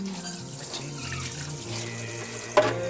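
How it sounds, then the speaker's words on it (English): Water runs steadily from a kitchen tap while fish is washed for a Thai steamed fish recipe, a continuous splashing stream close by with a brief sharper clatter near the end. "So first we have to wash the fish."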